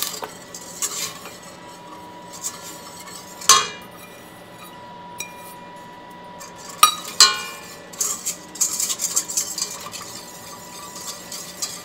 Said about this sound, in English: And we just want to stir that till it's completely dissolved.